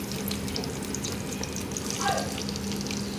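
Onions and green chillies with mustard seeds frying in hot oil give a steady, close sizzle with a faint crackle, continuous and even throughout with no talking.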